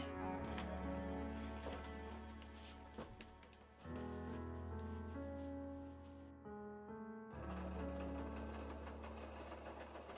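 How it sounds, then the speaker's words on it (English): A sewing machine stitches single welting as piping for the inside of a vintage suitcase, running in a loud, continuous mechanical whir with a short pause and speed change partway through. "So I sewed just single welting for like almost like a roping for the inside of the suitcase"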